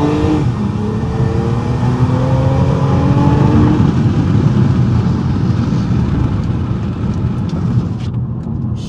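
A heavily modified car that looks like a Camry revs hard, its loud engine note climbing in rising harmonic sweeps and then roaring steadily, echoing off a nearby wall back into the cabin, with no talk.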